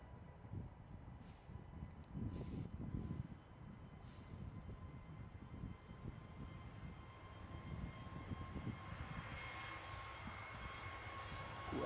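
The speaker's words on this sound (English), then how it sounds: "that's a short takeoff, isn't it?" British Airways airliner taking off at Manchester Airport, a faint distant roar building steadily across the clip, with a rising whine and wind buffeting close to the microphone.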